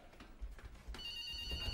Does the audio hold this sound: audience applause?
no